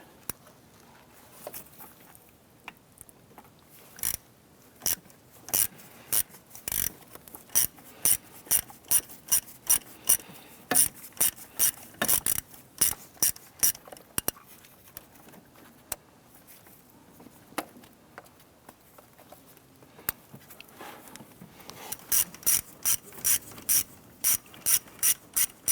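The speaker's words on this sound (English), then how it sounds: "We're going to go ahead and use a 7/32 socket to go ahead and loosen and remove that." A ratchet with a 7/32 socket loosening camshaft position sensor screws on a 1993-1997 Ford Ranger, with bursts of rapid clicking pawl strokes separated by pauses, close and clear with no talking.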